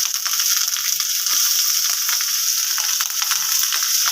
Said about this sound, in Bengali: ভালোভাবে একটু ভেজে নেব। এর মধ্যে দিয়ে দেবো পেঁয়াজ কুচানো